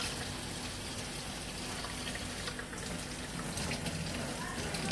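Steady loud rush of running tap water while rice is rinsed in a kitchen, a constant broadband gush that covers everything else for the whole stretch.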